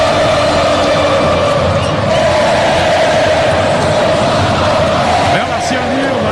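Corinthians supporters at Neo Química Arena erupt after a goal by Yuri Alberto against Novorizontino in the Campeonato Paulista, a loud, steady roar of the stadium crowd filling the whole stretch.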